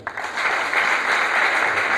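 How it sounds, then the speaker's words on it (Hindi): A crowd at a BSF camp gathering in Kishanganj, Bihar, bursts into loud applause after a sharp opening clap, then sustains a thick, even roar of clapping hands close by. "इनके लिए एक बार जोरदार तालियां बजाएं।"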